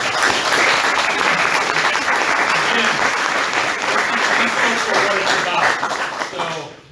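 Audience applause at a school board candidates event, loud and sustained dense clapping from a room full of people, holding steady for about six seconds before tapering off at the end.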